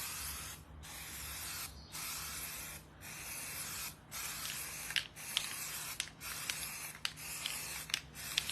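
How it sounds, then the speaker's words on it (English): Repeated short bursts of aerosol spray paint hissing, about eight in a row with brief pauses, close and steady, with faint clicks of the nozzle. "I'm just going to spray lightly. Try to make sure I get the whole thing covered."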